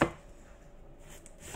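Two crisp knife cuts through bitter melon (ampalaya) on a cutting board, one at the start and one near the end, separated by a quiet pause.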